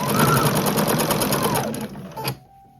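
Sewing machine stitching a quilt row at a quarter-inch seam, a fast close rattling run of needle strokes that slows and stops near the end.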